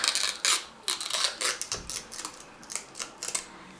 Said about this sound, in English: So let's peel this up.